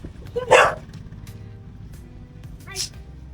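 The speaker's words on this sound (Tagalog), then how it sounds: "Ito lang aso." A dog barks sharply twice, a couple of seconds apart, over faint background traffic noise.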